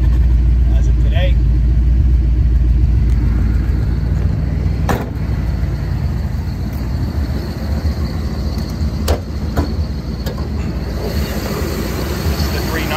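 The 390 V8 engine of a 1969 AMX with a 4-speed, idling as a steady low rumble close by, with a few sharp clicks and knocks over it and a person talking at times.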